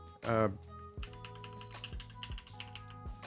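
Keys clatter in an uneven run of taps on a split keyboard, each stroke sounding slightly different, after a brief louder burst at the start.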